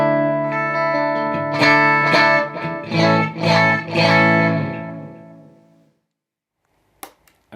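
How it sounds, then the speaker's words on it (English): Clean electric guitar plays a short phrase of ringing strummed chords and picked notes, then decays into silence before a couple of faint handling clicks. "First, here's my clean sound."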